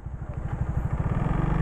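A food-delivery rider's motorcycle idles and chugs close by in a steady, throbbing rhythm that builds slightly over a couple of seconds.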